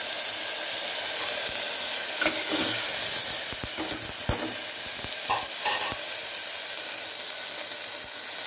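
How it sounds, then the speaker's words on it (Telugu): Tomatoes and onions fry in a pan with a steady, close hiss of sizzling oil, punctuated by scattered clinks and scrapes of stirring, with no one speaking. "టమాటా అవన్నీ వేయించాలి."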